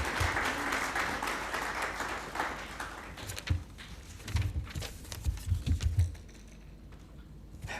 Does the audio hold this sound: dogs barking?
no